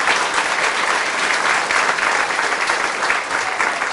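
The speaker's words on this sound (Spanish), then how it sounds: "Fuertes aplausos a la palabra del Señor." Audience applause at a church service, a dense and steady clapping crowd close up that holds for the whole stretch.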